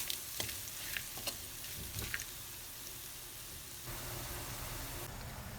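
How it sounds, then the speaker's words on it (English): Grated coconut sautéing in a pan over a low flame makes a soft, continuous sizzle with a few light taps of stirring, quiet and close. "add half cup grated coconut. Saute on low flame without changing the color"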